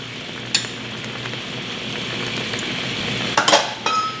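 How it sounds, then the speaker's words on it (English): Chicken jalfrezi seasoned with lemon juice, salt and black pepper simmers and sizzles steadily in a pan, and a few metallic clinks and scrapes of a utensil against the pan break through the sound. "I'm going to let this simmer for a few"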